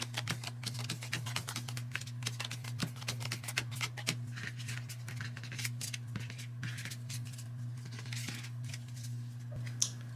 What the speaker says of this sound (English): Then we shuffle the perk cards